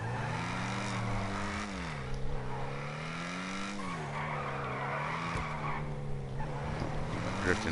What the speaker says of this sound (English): Drifting down here.